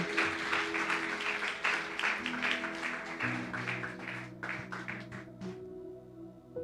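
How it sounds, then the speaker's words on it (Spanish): Dense applause from a church congregation at a Sunday service, clapping steadily and fairly close over a sustained musical tone, thinning toward the end. "¿Puedes darle un aplauso a Dios?"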